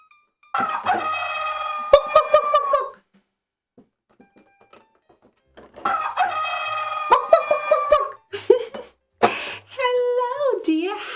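A hen sounds off in a children's farm-animal segment, bursts of loud clucking and crowing-like calls in two groups separated by a quiet gap, with a short voiced clucking near the end.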